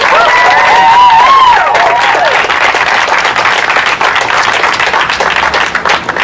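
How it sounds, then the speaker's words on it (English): An audience at a public art unveiling in Trinity Square, Providence, applauds with dense sustained clapping and a few cheers, loud and close throughout. "Please, a big round of applause."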